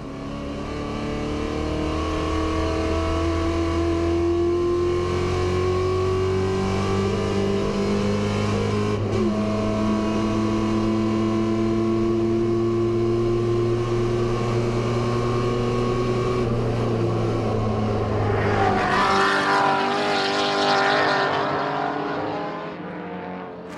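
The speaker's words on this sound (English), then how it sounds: "Insanely fast minis hassling Camaros, gaggles of Capris slewing about the place." Race cars at the Goodwood 73rd Members Meeting, among them Minis, Camaros and Capris, roar past, engines climbing and shifting through gears in long rising pulls before a loud rush and fade, no voices.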